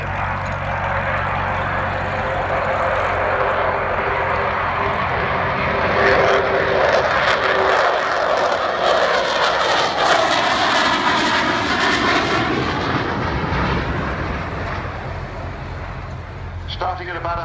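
An Avro Vulcan jet bomber roars through a flying display, its engines producing a loud, sustained rumbling howl that swells and holds for the whole stretch, with a commentator's voice talking over it.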